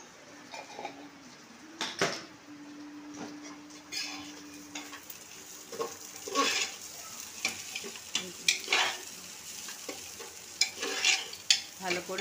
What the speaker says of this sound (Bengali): ভালো করে চালটাকে ভাজা ভাজা করছে